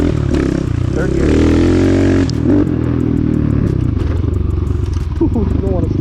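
An RXB 250L motorcycle riding in third gear, its engine droning loud and close with rising revs and clattering under wind, while a rider talks over it.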